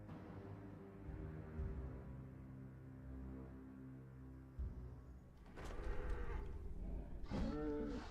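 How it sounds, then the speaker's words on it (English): A minotaur in a video game lowing like a cow, long drawn-out harmonic moos at close range over a faint background, with a rougher burst of sound near the end. "Sounds like a cow."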